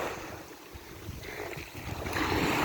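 Wind gusts at the water's edge on a bright day, a continuous broadband rush that swells louder toward the end, with faint low rumbling beneath and no speech.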